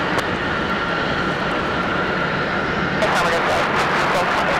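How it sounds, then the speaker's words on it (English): Boeing 737 jet taking off in snowy weather at Raleigh-Durham International, a loud continuous engine roar that holds steady, with a brief rise in hiss near the end. "They're cleared for takeoff already. That's 737."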